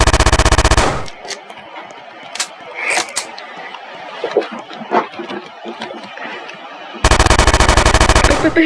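Rapid bursts of automatic gunfire from a player's weapon in a Roblox game, loud and dense at the start and end, with sparser shots, clatter and faint voices in between.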